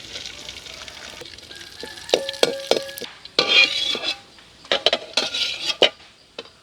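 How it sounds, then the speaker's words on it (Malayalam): Raisins dropped into hot ghee after cashews sizzle for a moment amid loud clanks and scrapes of a metal spoon against the pan, with irregular close-up clinks and bursts of frying. "നമുക്ക് മുന്തിരിയും കൂടി ഇട്ട് കൊടുക്കാം കേട്ടോ."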